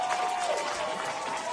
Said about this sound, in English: Do you see anyone not clapping?